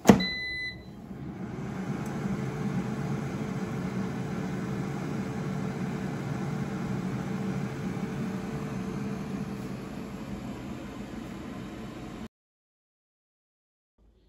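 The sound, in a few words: air fryer running, roasting cauliflower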